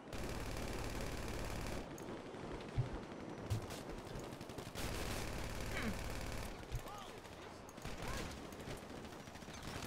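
Bursts of automatic gunfire from GTA V rattle in rapid runs with a few single shots, mixed under game sounds and someone talking.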